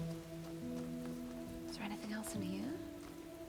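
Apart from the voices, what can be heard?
rain falling in the video game The Talos Principle: Reawakened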